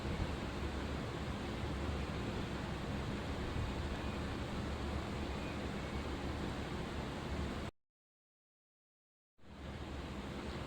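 Soaked green lentils, swollen to fill a bowl, are rinsed and washed by hand in water, a steady splashing rush that runs unbroken before dropping out briefly near the end, then resumes.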